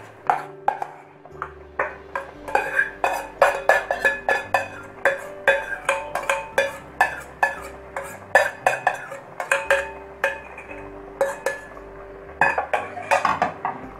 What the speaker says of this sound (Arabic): وهقلب كويس.